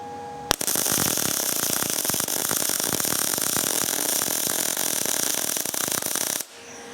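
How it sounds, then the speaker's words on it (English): A low-cost 3-in-1 MIG welder runs a steady crackling, sizzling arc on thick metal with the wire speed raised, loud and continuous for about six seconds after a sharp strike, then cutting off. "And now I have a very nice weld. I just did a quick run, of course, on very thick metal"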